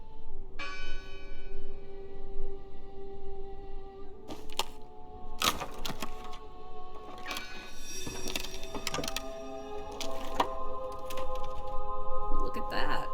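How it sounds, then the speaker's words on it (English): Bell rings out in the video game Draugen with a series of resonant, ringing strikes spaced a second or two apart, layered over a sustained tonal ambience and lingering decay. "It must be her ringing the bell."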